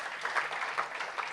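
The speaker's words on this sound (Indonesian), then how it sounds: "Tepuk tangan buat Tuhan kita, saudara." A church congregation applauds briefly, a short burst of many hands clapping at moderate distance.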